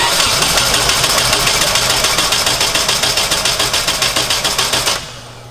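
A rear-wheel-drive Honda Civic fitted with a new engine starts for the first time and runs loud and close with a fast, rough, pulsing idle for about five seconds before dropping away.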